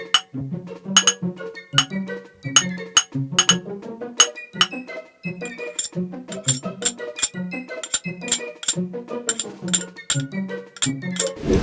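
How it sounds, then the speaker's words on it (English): Medium-sized metal pot or pan struck and scraped, giving a series of sharp ringing clinks with short metallic resonance, close and fairly loud, spaced irregularly with scraping tones between hits. "we'll record our medium-sized metal object, and we're going to play it in two ways, one hit and one scrape"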